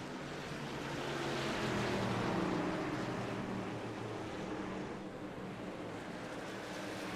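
Racing trucks circle a track during a truck series race, their engines merging into a continuous, dense roar that peaks briefly and then holds at a steady level, with no speech on top.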